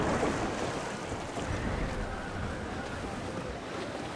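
Wind and rough seas while sailing a ship in Assassin's Creed IV Black Flag, a steady broadband roar of wind and crashing waves, with faint voices underneath.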